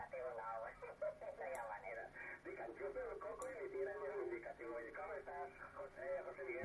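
Faint, band-limited shortwave radio reception on 14 MHz through a magnetic loop antenna: a distant voice talking through hiss and static, with a couple of brief sharp clicks.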